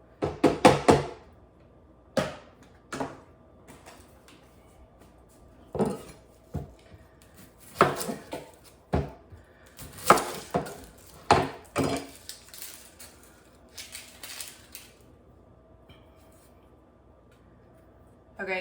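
Onion being chopped with a knife on a cutting board: a scattered series of close, sharp thuds and clicks in irregular bursts, some quick runs of several strokes, with quiet gaps between them.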